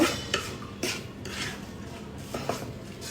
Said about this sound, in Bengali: এবার আমি সবগুলো উপকরণকে খুব ভালোভাবে একটু মিক্সড করে নেব।